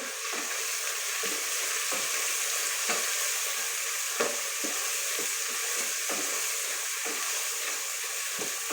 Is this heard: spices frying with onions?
yes